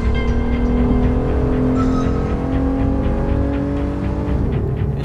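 A Porsche Panamera engine runs with a loud, steady, throaty drone and strong harmonic tones, pitch holding fairly level and dropping slightly near the end, with no one speaking.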